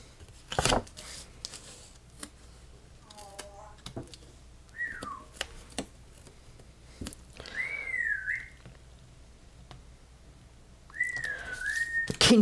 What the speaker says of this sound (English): he's my African gray parrot